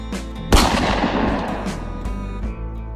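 A single loud gunshot bursts out, followed by a long rumbling echo that slowly fades.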